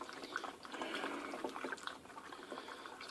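Liquid for home brewing is poured steadily into a bottle, a continuous fizzy, gurgling trickle that stays fairly quiet and close throughout.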